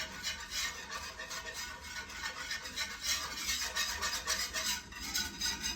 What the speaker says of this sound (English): Whisk that, and I want it to be smooth. I'm going to make a paste.